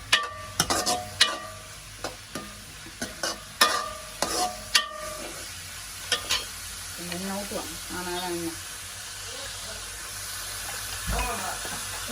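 Onions sauté in a pan with curry leaves, with sharp clattering stirs and scrapes at first, then a softer sizzle and some running water, while a voice talks in the background.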